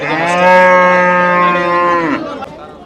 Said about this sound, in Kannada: ಇಲ್ಲೊಂದು ಹಸು ಐತೆ ನೋಡ್ರಿ ಗೀರ್ ಗೀರ್ ಅಲ್ರಿ ಗೀರ್ ಗೀರ್ ತಳಿ